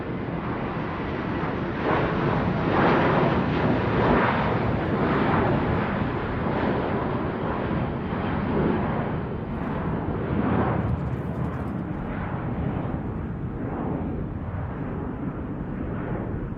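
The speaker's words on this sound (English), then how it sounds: "We start off with a jet engine roaring in." A jet engine roars in as a sound effect for a tsunami wave, a dense, broad, sustained rushing wall of noise that holds steady and loud throughout.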